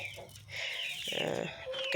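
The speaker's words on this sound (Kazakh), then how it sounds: "мына жерде адлерский, далматинец балапандарым жүр" Adler and Dalmatian chickens and chicks being fed wheat cluck and peep close by in short, busy bursts, with faint voices in the background.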